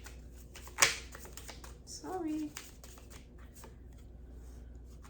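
Tarot cards shuffle with a sharp riffle snap followed by softer card rustles, close and quiet, and a short spoken word midway.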